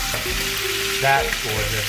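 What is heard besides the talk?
chicken searing skin side down in pan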